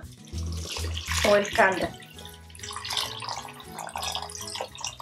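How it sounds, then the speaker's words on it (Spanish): Water is poured into a pot of boiling meatball soup, a loud, close splashing pour that comes in surges, with someone speaking over it. "Aquí ya está hirviendo, ahora le vamos a agregar más agua"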